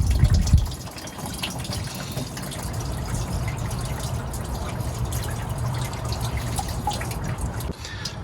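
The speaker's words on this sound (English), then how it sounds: "I don't know if that's the right way to drain it, but that's the way I'm draining it" Coolant drains from a Detroit Diesel 6V92 engine, being opened up for a water pump change over weeping coolant, and pours into a small bucket below in a steady, close splashing trickle, heaviest at the start.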